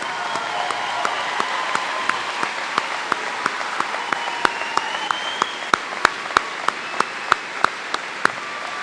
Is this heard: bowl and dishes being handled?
no